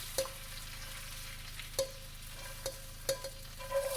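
Turkey wings browning in bacon grease in a pot: a low continuous sizzle broken by a handful of sharp clicks and scrapes from a utensil, no talking.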